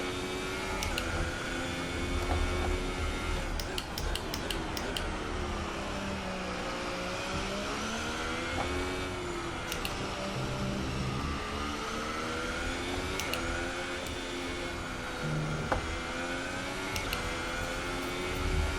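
F1 race cars in the F1 2018 video game at the Australian Grand Prix, engines droning steadily and rising and falling in pitch as the car accelerates and shifts, with other cars nearby and no talking.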